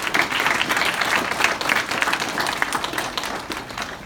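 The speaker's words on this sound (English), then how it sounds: "Big round of applause for him." Applause rings out for a sponsor who donated two computer monitors, a dense steady crowd clapping at a small community STEM event, close and sustained with no talk over it.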